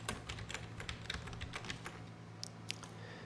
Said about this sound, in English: I'm going to type After Effects.